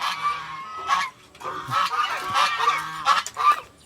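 Several geese, including a mother goose, honk loudly nearby in short, harsh bursts, overlapping and irregular, with brief pauses between calls, on a farm in the evening.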